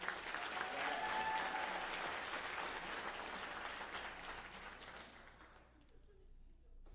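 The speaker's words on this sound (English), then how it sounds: "Let's give him another round of applause." Audience applause at a virtual career academy's closing celebration, a sustained round of clapping that gradually fades out toward the end.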